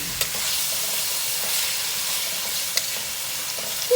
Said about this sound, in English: So I'm frying it up.